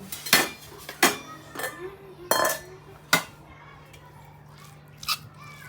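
Vegetable curry being served with a spoon onto plates, a series of sharp metallic clinks and scrapes of spoon against steel, five or six separate knocks spaced about a second apart, close and clear with no talk.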